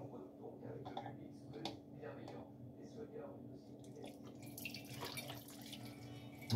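Diluted honey water for mead is poured from one container into another, giving a soft, continuous trickle and splash over a steady low hum.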